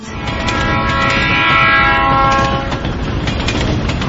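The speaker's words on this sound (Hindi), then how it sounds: "रात 11 बजे मैंने ट्रेन पकड़ी।" A loud train rumble with a sustained horn blaring over the steady rolling of rail cars, used as a sound effect in a radio ghost story, with no voices.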